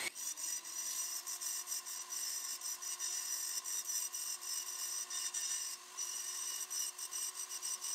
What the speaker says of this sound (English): we'll go in with the diamond stone.